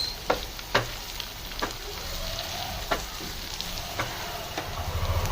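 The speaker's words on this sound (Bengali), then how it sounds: "চলুন একটু ভালো করে আর একটু ফ্রাই করা হোক।" Chicken liver frying in a pan with tomato and coriander, a continuous close sizzle broken by several sharp clinks of a spoon stirring against the pan.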